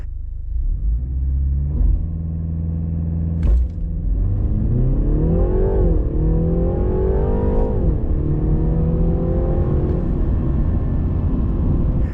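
A 2019 BMW 330i G20 M Sport with a four-cylinder engine pulling hard from inside the cabin, its loud rumble climbing through the revs in rising sweeps with brief pauses at gear changes.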